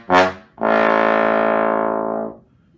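Trombone motive: a short accented note, a brief gap, then a long loud sustained tone that fades out, solo and close.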